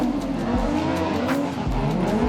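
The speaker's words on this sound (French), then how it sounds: "Il ira jusqu'à attaquer Alex Teuil au freinage dans le bas du circuit pour passer 4e." Autocross race cars brake hard on the lower part of the circuit at a FIA European Autocross Championship round in Přerov, with tire squeal and loud engine noise, close by and continuous, and no talk.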